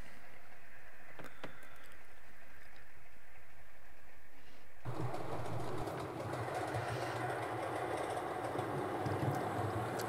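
A passenger train pulls out of a station onto the line, starting as a low distant rumble that swells abruptly into a louder, broad rolling roar of wheels and carriages passing close by.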